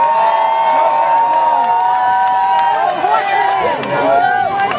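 A large crowd cheers loudly at a Halloween knights jousting show, a dense continuous roar of whoops, shouts and excited high voices filling the space without a break.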